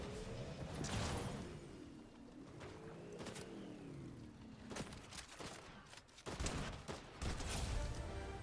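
Video-game gunfire crackles in scattered bursts amid engine and vehicle noise, fairly loud and busy, without speech.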